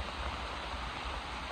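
Steady rain hissing down during a thunderstorm on a fishing outing, a dense even wash of drops with no talk.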